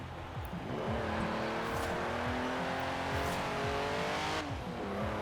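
A completely stock Sprite Mark 1 with 147 horsepower in Forza Horizon 4, its small engine revving hard and climbing through gears, with brief tire squeal as it slides.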